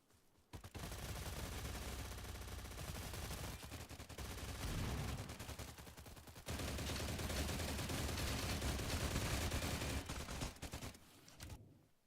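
Sustained automatic hip-fire from a gun in the shooter game STALCRAFT, a dense, loud stream of shots running almost without pause for several seconds with brief gaps, then cutting off abruptly.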